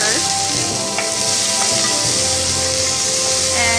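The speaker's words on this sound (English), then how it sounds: "let it fry till the onions become golden brown" Onions fry in a wok for chicken Chettinad, a loud, steady sizzle and hiss close by, with faint stirring scrapes now and then.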